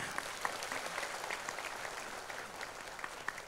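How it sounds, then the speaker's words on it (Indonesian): Steady applause from a crowd, a dense wash of clapping that holds at an even level for a few seconds with no voices over it. "Tepuk tangan untuk kita semuanya."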